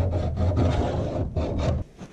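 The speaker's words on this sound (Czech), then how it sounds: "Jako kapotu jsem ještě pilníkem nebral nikdy." A hand file rasps across the metal edge of a BMW E36 car hood in about six quick back-and-forth strokes, close and scratchy, ending with a quieter final pass.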